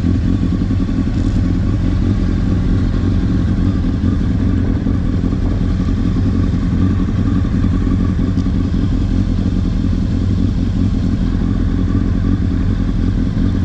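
Two Honda enduro motorcycles idle and run together close by, a steady loud engine drone with mechanical clatter holding throughout, no talk.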